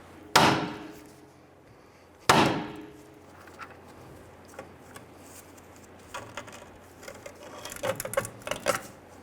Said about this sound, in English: I want to go ahead and strike the knuckle right here, and this should release the tie rod end out.